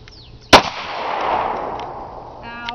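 A single loud, sharp handgun shot cracks close by, followed by a long ringing echo that trails off outdoors, with faint clicks afterward and no talking.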